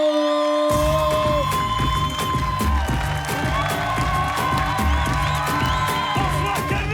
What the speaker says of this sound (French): Un tonnerre d'applaudissements pour Alban Ivanov.